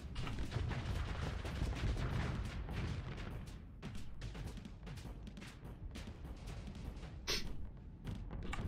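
Ship weapons fire steadily in the space combat game Starsector, with dense, overlapping shots and thuds rolling on continuously and one sharper burst near the end.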